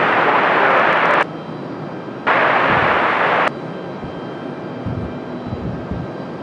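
An airliner roars down the Raleigh Durham runway on takeoff, a loud broad rush of jet noise that drops away abruptly twice and leaves a lower steady rumble.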